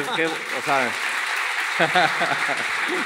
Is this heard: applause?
yes